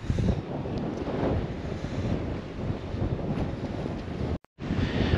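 Strong coastal wind roars into the microphone in a loud, continuous buffeting rush, with a possible wash of surf underneath and a brief dropout near the end.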